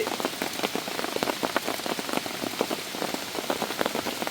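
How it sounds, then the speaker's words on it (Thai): Heavy rain pours down in a mountain forest, a dense, steady patter of drops striking leaves and surfaces close by, continuous and loud with no voices. "ฝนตกเลย"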